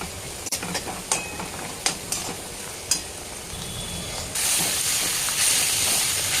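Carrots and other vegetables stir-fry in a pan with a steady sizzling hiss, punctuated by several sharp spatula clicks and scrapes, then the sizzle grows louder and fuller toward the end.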